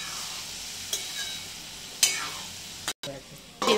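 Spiced potato mixture with salt, turmeric and sugar being stirred in a pan for a Maharashtrian batata bhaji, steady sizzle with a few sharp spoon scrapes and a brief gap near the end, close and alone.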